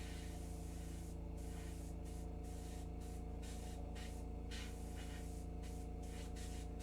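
Spray paint hisses onto a hobby model in a continuous steady stream, with brief breaks between bursts, close and fairly loud with no talking.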